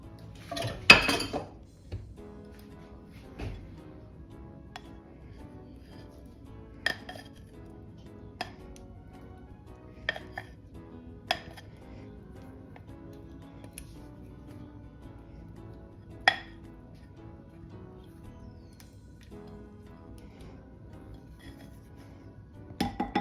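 Melted chocolate being stirred into brownie batter in a bowl, quiet soft mixing broken by sparse sharp clinks of a utensil against the bowl, with a louder clatter at the start.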